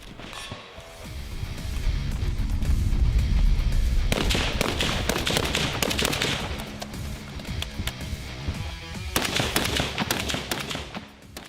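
In the video game Roblox Blackhawk Rescue Mission, a SCAR-H battle rifle fires, with loud, dense bursts of sharp cracks in rapid succession and short gaps between volleys, and no talking.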